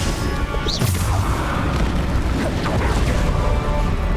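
Bombarda explosion spell in the Hogwarts Legacy video game, a loud booming blast with a whoosh near the start, then continuous dense battle noise and rumbling through the rest.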